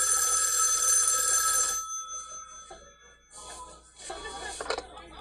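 In a horror film scene at a Christmas party, a telephone bell rings loudly and continuously for almost two seconds, then stops, followed by faint rustling and muffled background sounds.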